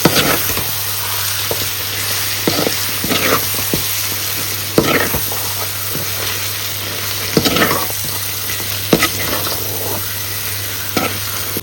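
Chicken masala gravy being stirred in a pan with Kashmiri chilli powder, with a steady sizzling hiss and periodic scraping knocks of the spoon every second or two, close up under a constant low hum.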